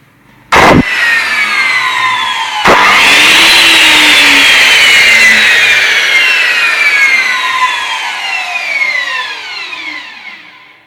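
A powerful electric power tool, such as a Hitachi M12SA2 router or Bosch GKS 235 circular saw, clicks on and spins up to a loud, close, high whine that holds steady, then slowly winds down.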